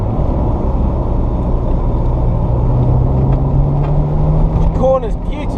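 A Ferrari 348 with its targa roof on, cruising and cornering smoothly, giving a steady loud engine and road rumble from inside the cabin with a faint rising tone and brief chirps near the end.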